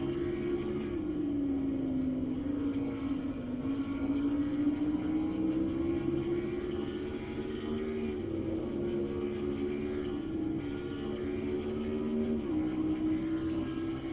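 A No. 9 yellow Pontiac stock car in a racing video game revs hard at Lime Rock, its engine pitch winding up and dipping through shifts, a loud, steady drone throughout with no talk.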